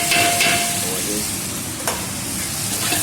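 Ginger garlic paste frying with onions in a pan for egg korma, a loud continuous sizzle with brief tonal squeaks and a spatula scrape near the middle, heard close and without talk.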